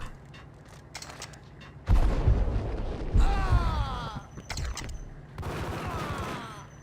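Gunfire and a grenade blast from the Max Payne video game ring out in sharp loud bursts, with heavy booming impacts and trailing mechanical whines and creaks between volleys.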